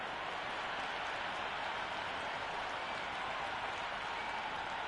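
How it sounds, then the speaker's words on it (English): Stadium crowd in the cricket video game Cricket 26 at Eden Gardens during an India vs South Africa T20, a steady distant roar with faint applause texture, with no voices standing out. "this crowd is already making it hard for me to be heard"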